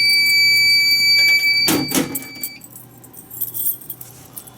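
A building fire alarm system sounds during a test, a steady high electronic tone with a brief loud burst partway through, then cutting off abruptly and leaving faint rustling and handling noises in a quiet room.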